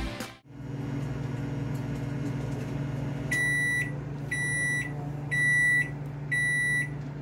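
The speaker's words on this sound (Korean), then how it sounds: "이 상태에서 전자레인지에 1분만 돌리시는 겁니다." A microwave oven hums steadily while heating instant rice after a door click at the start, then gives four evenly spaced loud beeps near the end, with no voices.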